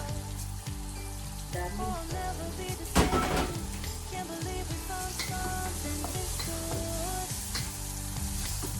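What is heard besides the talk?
onion sautéing in pan for beef caldereta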